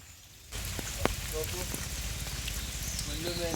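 Steady rain falls outside a mud-walled house at a resort in Wayanad, a dense, close patter with scattered drips and taps that swells in after a quieter start.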